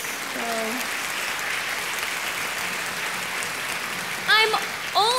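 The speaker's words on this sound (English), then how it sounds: "I think it deserves a round of applause" Crowd applause at a school district convocation morning session, a steady wash of clapping from a large audience, with a voice briefly heard near the end.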